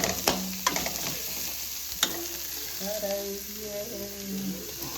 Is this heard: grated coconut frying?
yes